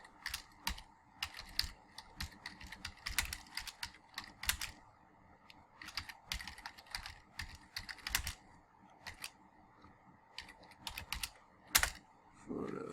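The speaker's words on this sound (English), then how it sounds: "if we type the address" Rapid bursts of clicky keystrokes on a computer keyboard as an address is entered into a QuickBooks billing field, irregular clusters of taps with short pauses between, close and dry.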